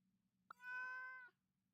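A cat in the video game Genshin Impact gives a single clear, drawn-out meow, close and fairly loud over faint background hum, with no speech.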